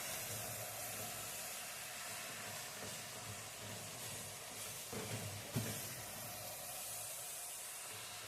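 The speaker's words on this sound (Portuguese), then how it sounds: "Então estamos aí mexendo, né, a nossa carne." Ground beef stirred in a frying pan during spaghetti bolognese prep, a steady quiet sizzle and hiss with a few soft scraping knocks near the middle; no talking.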